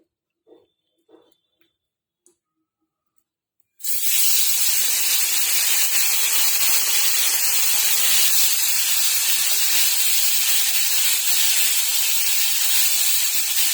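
Paneer hitting hot oil in a pan, first a few faint knocks and clinks, then a sudden loud, dense sizzling hiss that holds steady and close until the end.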